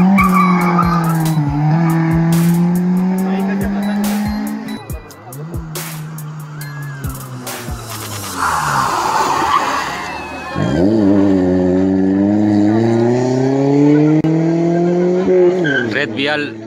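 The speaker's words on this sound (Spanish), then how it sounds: "Gran carrera de autos por primera vez en Chillanes." Rally cars racing on roads near Chillanes, Ecuador, engines roaring loud and close with revving pitch sweeps, tire squeal and passing cars, plus crowd noise and sharp pops.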